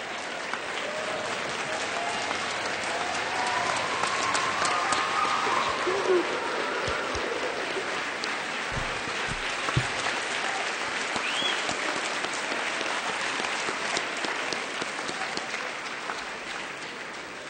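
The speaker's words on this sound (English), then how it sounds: "Applause for Mr. Smalley." Sustained, even applause from a school assembly audience for a bullying seminar speaker at a high school, a broad, moderately loud wash of many hands clapping that holds steady with little variation.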